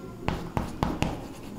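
Chalk or marker writing on a board during a physics lesson on one-dimensional motion, four short scratchy strokes in an even rhythm, close and clear, with no talking.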